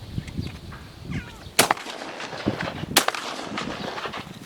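Two sharp shotgun blasts ring out outdoors on a dairy farm during corvid control, aimed at a jackdaw with the second about a second and a half after the first, amid wind and faint bird calls.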